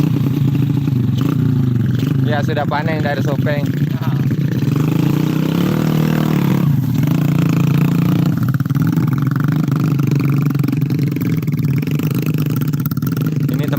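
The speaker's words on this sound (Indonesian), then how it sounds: "Ini kalau mengangkut gabahnya pakai motor" A motorcycle hauling harvested rice grain from the paddy fields runs with a continuous low engine drone and some rattling, close by, while people talk over it.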